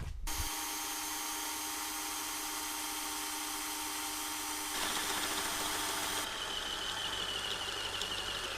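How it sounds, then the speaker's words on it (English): A power drill grinds steadily through steel uprights for a 1986 Chevy Caprice coupe frame, loud and close, its pitch shifting as the bit bites deeper near the end. "just going to punch in the center of each one and drill the holes"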